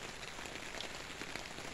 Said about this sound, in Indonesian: Hari ini hujan lagi.